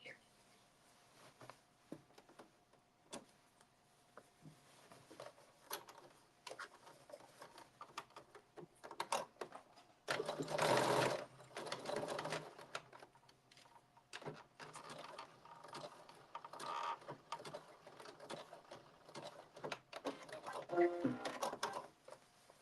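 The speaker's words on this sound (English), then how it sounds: "And you're going to do a zigzag stitch here" A sewing machine stitches a zigzag on a blazer in quiet, intermittent runs of soft rapid clatter, with one louder burst partway through, amid faint handling noises and occasional low talk.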